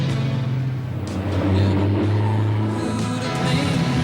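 A car engine pulls hard and steady, its low drone holding throughout with a slight swell in the middle, mixed with faint road and wind noise.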